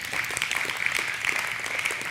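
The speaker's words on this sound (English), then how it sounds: "And thank you for the applause." Dense, continuous clapping from an audience welcoming Dr. Grady McMurtry to speak at an evening lecture, moderately loud and steady without voices over it.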